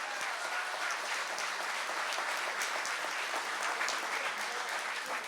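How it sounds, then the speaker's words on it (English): Round of applause from an audience at a speaking event, a dense, steady wash of many hands clapping at moderate distance, continuous and even throughout with no voices on top. "Round of applause for that."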